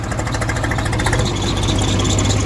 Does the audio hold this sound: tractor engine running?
yes